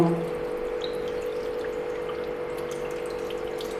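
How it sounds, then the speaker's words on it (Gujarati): Water pours steadily into a pan to make sugar syrup for sweet raw mango pickle, a continuous close trickling stream with a faint hum beneath and no talking. "તો આપણે અઢી કપ જેટલું પાણી ઉમેરશું"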